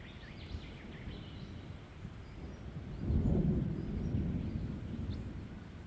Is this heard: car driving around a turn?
no